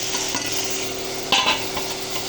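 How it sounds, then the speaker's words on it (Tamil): Thuthuvalai leaves sautéing with softened tomato in a pan: a continuous sizzle with a few scraping stirs, one louder clatter of the spoon midway, close up and without any talking. "இந்த தூதுவளையை போட்டு நல்லா வதக்கணும்."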